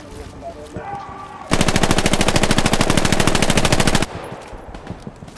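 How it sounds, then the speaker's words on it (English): Machine gun firing in the World War II video game Hell Let Loose, a single sustained burst of rapid, evenly spaced shots lasting about two and a half seconds, loud and close, with quieter battlefield noise before and after. "We got an MG."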